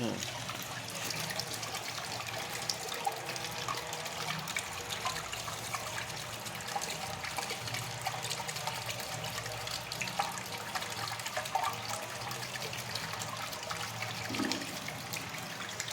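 Water runs steadily from a borewell at a site inspection, a reduced flow giving a continuous close splashing wash with faint voices under it.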